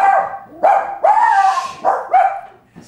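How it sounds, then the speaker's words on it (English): Dogs bark close by in a run of about five loud, sharp barks with short gaps, some with whiny tails, and no talk over them. "yeah, there's dogs here"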